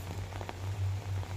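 Rain falling steadily on a surface outdoors, a dense hiss with scattered drops and a constant low hum underneath, loudness swelling slightly as the shower grows heavier.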